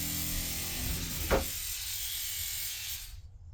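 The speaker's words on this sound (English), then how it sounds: "It's my electric toothbrush that just started going off all by itself. And it's rattling, vibrating up against the wall." An electric toothbrush switched on by itself, buzzing steadily and rattling as it vibrates against a wall, loud and close with a brief knock partway through before cutting off abruptly, no talking.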